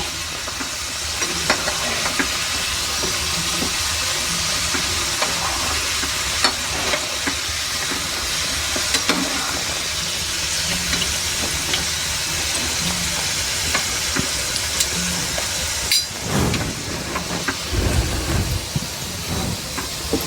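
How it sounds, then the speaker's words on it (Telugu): Crispy modak deep frying in hot oil for a Vinayaka Chavithi sweet, a steady close crackling sizzle running throughout with faint clinks and a brief stir near the end. "అన్నీ మనకి డీప్ ఫ్రై అయిపోయినాయి"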